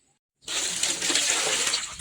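Water poured into a container for a home remedy starts after a brief silence, then a steady, bright splashing gush runs continuously and close.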